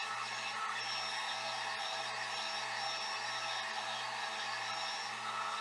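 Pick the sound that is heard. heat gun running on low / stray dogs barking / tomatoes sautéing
heat gun running on low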